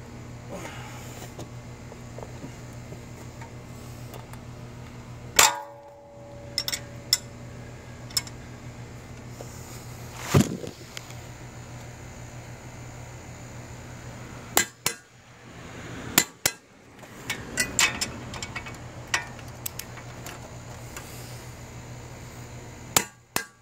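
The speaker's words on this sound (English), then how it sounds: "I'm going to torque these to 130 foot-pounds" A torque wrench works on bolts being tightened to 130 foot-pounds during an engine and transmission swap on a 2013-2015 Chevrolet Malibu LT 2.5L, giving occasional sharp metallic clicks and clanks over a steady shop hum.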